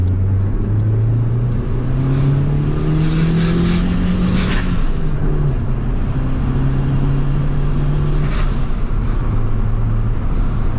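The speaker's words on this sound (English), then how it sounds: "We definitely have boost. We definitely have blow-off valve, so that's a bonus." A turbocharged D16 engine on a stock ECU revs hard through several rising pulls, with a sharp hissing blow-off valve release between them, loud and close.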